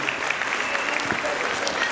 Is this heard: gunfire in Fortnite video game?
no